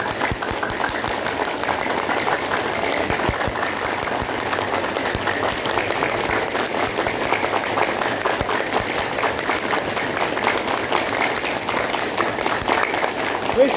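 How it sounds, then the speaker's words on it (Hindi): During a yoga exercise, full palms clap rapidly and steadily for the whole stretch, giving a dense, even patter under a background of faint voices. "सातवीं क्रिया, ताली बजाएंगे।"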